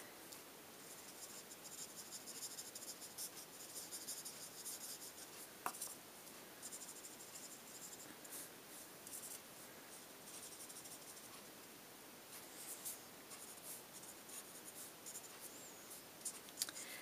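Spectrum Noir alcohol markers coloring a jumbo poppy on paper, giving a soft, steady scratchy rubbing close by with faint strokes and a few light taps, and no one talking.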